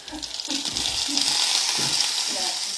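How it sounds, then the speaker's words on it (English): Food frying in a cast iron pan, a loud continuous sizzle with bursts of crackling and stirring scrapes, heard up close. "Now you're gonna fry them."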